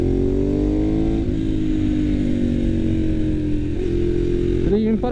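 Ducati 1098 S sportbike engine droning steadily at speed on a mountain road, a loud continuous rumble with slowly rising pitch and a brief rev near the end, under heavy wind noise.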